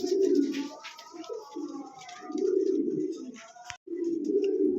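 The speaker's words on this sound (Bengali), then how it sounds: "অসাধারণ কোয়ালিটির এক জোড়া ড্যানিশ কবুতর" A pair of Danish pigeons coo nearby in repeated low, throaty rolling calls, a few chirps and rustles between phrases.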